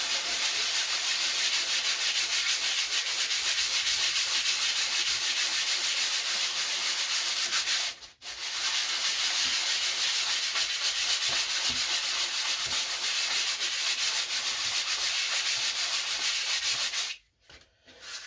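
Rough canvas is sanded down to thin it, a harsh steady abrasive rasp heard up close and unbroken apart from a short pause midway and another near the end.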